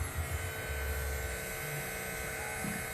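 A vacuum pump running during a Blueridge multi-zone mini split heat pump install, giving a steady droning hum with faint low fluctuations and no voices.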